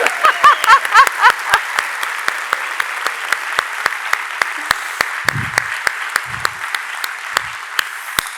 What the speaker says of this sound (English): Please join me in giving her one more round of applause